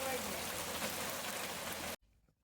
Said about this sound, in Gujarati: અને વરસાદ જોરદાર છે ભાઈ.